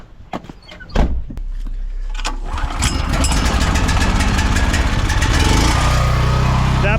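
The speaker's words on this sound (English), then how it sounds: "Let's go get the generator on" A portable generator is pull-started with a worn, frayed cord: a few sharp tugs and clunks, then the engine catches and settles into a loud, steady running drone close by.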